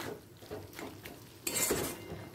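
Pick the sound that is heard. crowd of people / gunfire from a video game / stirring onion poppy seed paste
stirring onion poppy seed paste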